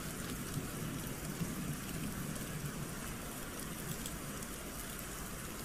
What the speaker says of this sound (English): Sound of rain